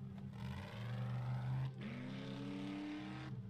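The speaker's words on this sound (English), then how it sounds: "I hear somebody in a car" A car driving in the video game 7 Days to Die, a steady droning engine hum that shifts pitch as it revs and changes gear, moderately loud and continuous with no voices.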